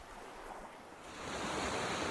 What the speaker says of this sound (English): the waves aren't crashing particularly hard